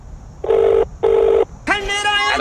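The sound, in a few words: phone ringing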